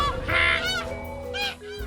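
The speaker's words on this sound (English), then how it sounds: "George was flying with birds." Geese honk in a flock flying overhead in a cartoon scene, a few loud, close, rising calls overlapping one another.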